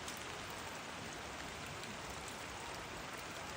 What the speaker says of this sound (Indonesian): Tapi kalau begini terus hujan wae deh.